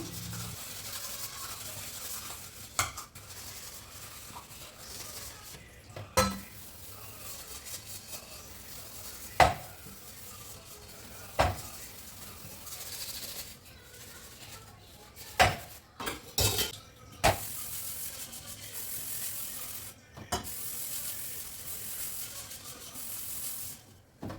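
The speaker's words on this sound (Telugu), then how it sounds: "గిన్నెలు అయితే టిఫిన్ చేసిన తర్వాత వచ్చిన గిన్నెలు ఇంకా ఇంకా నైట్వి కొన్ని గిన్నెలు ఉన్నాయి ఇంకా నైట్ కూడా కడగలేదు ఇంకా అవైతే వాష్ చేసేసుకుంటున్నాను" Dishes and pots are washed by hand, with scattered sharp clinks and clatters of metal against metal over a quiet background of running water and scrubbing. The sounds are close and come at irregular intervals, with no talk.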